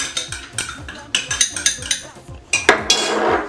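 Finely chopped ginger is added to a marinade bowl for tilapia, with a spoon clinking and scraping against the bowl in quick, irregular taps, close and crisp, ending in a rougher scrape.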